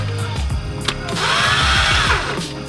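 A power tool briefly zips cylinder head bolts snug on a Honda Prelude during a head gasket repair, with short close whirring bursts and a rising, longer whine in the middle.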